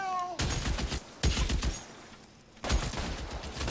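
Gunfire in a street shootout in the L.A. Noire video game: loud, dense bursts of rapid shots in three separate volleys, each followed by a short lull.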